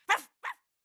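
A dog gives two quick, sharp barks, close by and fairly loud, with a short gap between them and silence afterward.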